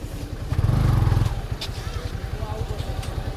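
Motorcycle engine nearby: a brief loud rev, then a steady, throbbing idle under people talking.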